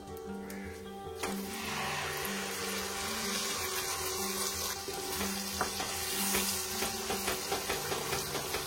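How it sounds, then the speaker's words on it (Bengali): Tomato purée blended with cashew paste poured into hot oil, setting off a loud, continuous bubbling sizzle that swells after a second and runs steadily with occasional spattering pops, up close and with no voices. "এর মধ্যে আমি এবার ঢেলে দেবো এরকম টমেটো পিউরে, এর মধ্যে আছে হচ্ছে কাজু বাদাম পেস্ট অ্যান্ড টমেটো।"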